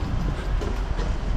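A steady low rumble of a steam train at a station, broadband and continuous, close by with no talking.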